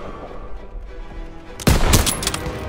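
Gunfire from a Call of Duty WWII street battle: quiet ambience, then a sudden loud burst of rapid shots with sharp cracks and echoing reports continuing to the end.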